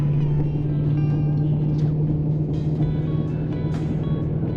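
A steady droning hum from a worn wheel bearing rumbles beneath loud road and engine noise from inside a moving car, constant throughout with occasional faint clicks.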